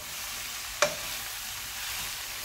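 Callaloo is stirred in hot oil in a pan, giving a steady, hissing sizzle throughout, with a single sharp spoon scrape or clink partway through and no voices.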